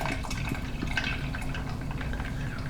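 Ginger ale poured into a measuring cup, a short steady trickle and fizzy splash of liquid, close and fairly quiet, with no talking.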